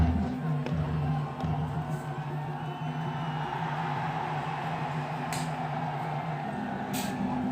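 Large crowd on the Lahore side of the India-Pakistan border flag ceremony, a steady, fairly distant roar of voices and cheering that holds throughout with no single voice standing out.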